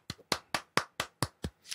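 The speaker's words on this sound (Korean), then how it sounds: "박수" Seven evenly spaced hand claps ring out close and sharp, with a softer flurry at the end and no talk.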